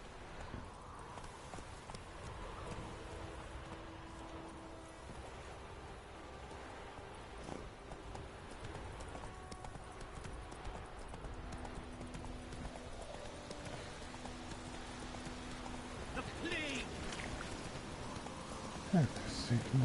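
Horse hooves clip-clop at a steady walking pace in The Witcher 3, fairly faint beneath game ambience and background music, with a voice speaking over parts of it.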